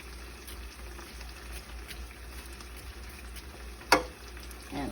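Haitian salmon frying in a frying pan, crispy skin side down, giving a steady low sizzle throughout with a sharp spatter pop near the end, close and fairly quiet, with no talking.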